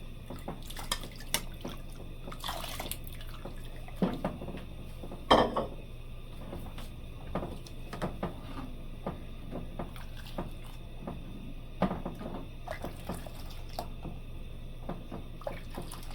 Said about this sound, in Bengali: এই চালটা ফুটুক